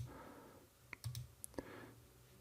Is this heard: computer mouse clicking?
yes